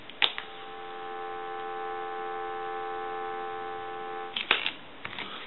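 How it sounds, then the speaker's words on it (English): Steady dial tone from a repaired telephone unit on a test bench, a continuous humming drone held evenly at close range, framed by a few soft clicks and handling knocks at the start and end. "give you some dial tone."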